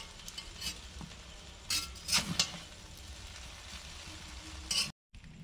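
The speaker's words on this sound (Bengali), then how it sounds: "যে তাওয়ার মতো কত সুন্দর চাউমিনটা ভাজা হচ্ছে।" Egg chow mein stir-fried in a tawa-like pan gives a quiet, steady sizzle broken by several sharp scraping and clinking strokes of a utensil against the metal.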